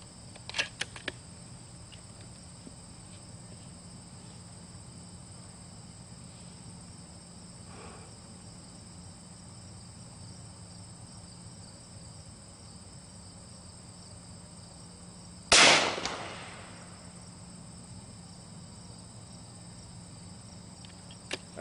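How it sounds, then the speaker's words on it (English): A single unsuppressed .30 caliber rifle shot with subsonic 208 grain Hornady AMAX ammunition cracks out loud and sharp, ringing briefly, after a long stretch of steady outdoor cricket chirping that continues afterward. "First I'm going to shoot an unsuppressed to see if it's actually stable so I don't wind up with a baffle strike."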